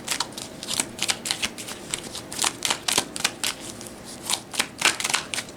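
Tarot cards being shuffled and handled up close, a steady run of crisp riffling flicks and soft slaps with no talk.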